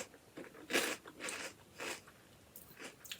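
Crisp bites and crunches of a Korean prawn cracker snack come up close, with several sharp crackling bursts spaced through a short stretch of chewing and no talking.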